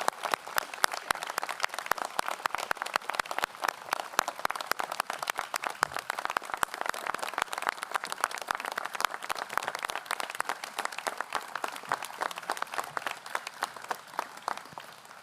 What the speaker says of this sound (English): Could we give these leaders a round of applause?